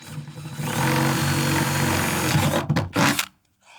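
A power drill with a large bit grinds through the sheet-metal body of a Ram Promaster van, a close, loud, buzzing whir with rattling vibration that surges briefly near the end before cutting off abruptly.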